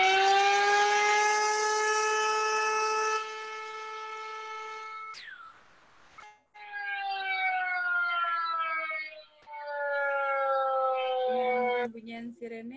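A loud, steady siren wails for several seconds at a university inauguration ceremony, cuts off briefly, then resumes with a rising and falling tone.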